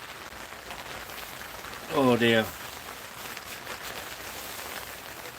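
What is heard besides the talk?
heavy rain pouring down outside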